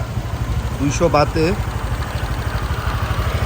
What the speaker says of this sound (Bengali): এই মোটরসাইকেলটা ভাড়া করলাম শিব ফার্মে